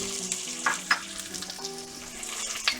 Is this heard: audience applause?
no